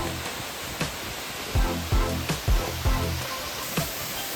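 A waterfall near a campsite roars steadily as broadband rushing water, close and constant, with a few low thumps and knocks over it.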